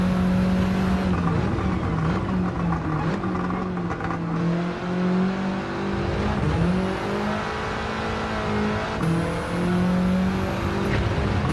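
A race car engine drones steadily through a lap in Gran Turismo 7, loud and continuous, its pitch rising and dipping as it shifts and accelerates through corners, with a faint high whine on top.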